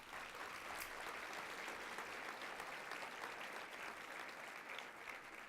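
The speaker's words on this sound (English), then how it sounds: "Let's give a round of applause for LAD." Festival audience at a disability film event applauding, steady dense clapping that holds evenly for several seconds, fairly faint and distant, with no talk over it.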